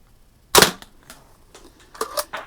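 A Daisy Red Ryder 499B BB rifle fires at a target with one sharp, close crack, followed by fainter clicks and a few quick impact taps on the target.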